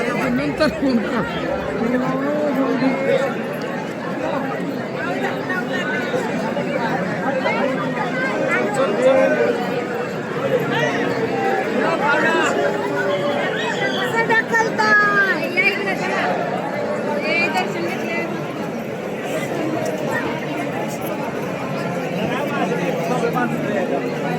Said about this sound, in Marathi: एवढी प्रचंड गर्दी आहे बघा.